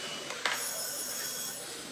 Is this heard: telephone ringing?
yes